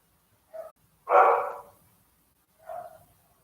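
A dog gives three barks, a short one, then a louder fuller bark, and a softer bark after a pause, close by and otherwise quiet.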